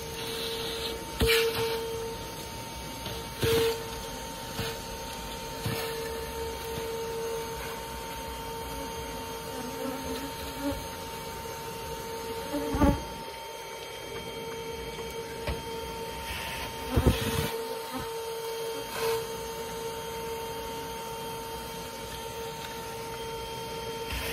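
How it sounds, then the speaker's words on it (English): A steady droning vacuum with a constant hum, broken by a few sharp knocks and thumps as it sucks up honeybees during a colony cutout, running alone without talk. "So I'm gonna vacuum up some bees."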